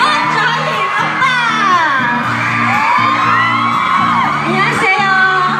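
A large crowd at a Hong Kong fan event for a Korean actor cheers loudly with high whoops and screams, sustained and close, a dense wall of excited shouting with an amplified voice underneath.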